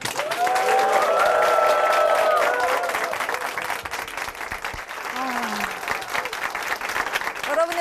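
A church congregation keeps applauding after a woman's faith testimony on a televised program, dense clapping filling the room while a sustained musical tone rings early and a voice speaks over the continuing applause.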